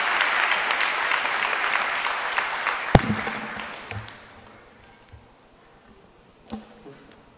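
Audience applauding at a college graduation ceremony, a loud, dense burst of clapping that gradually thins out into a few scattered claps and then fades to near silence.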